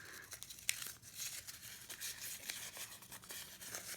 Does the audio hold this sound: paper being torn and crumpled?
yes